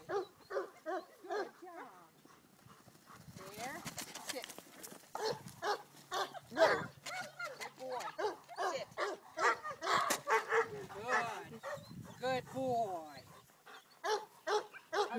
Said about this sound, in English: Shut that puppy up.